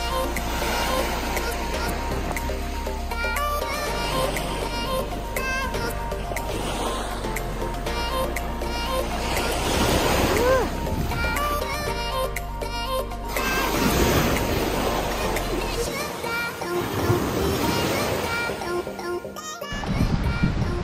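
Waves roll in on the wide sandy shore of Maehama Beach on Kozushima, a steady broad wash of surf with a low rumble, partly under people chatting nearby.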